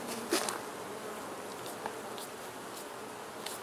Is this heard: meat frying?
no